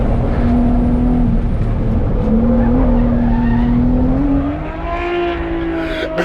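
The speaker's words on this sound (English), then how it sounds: "Is he trying to drift on the Mickey Thompson?" A race car drifts at a regional finals event on Mickey Thompson tires, giving a loud, sustained tire squeal with a steady tone that rises slightly in pitch, over continuous engine roar, with no voices.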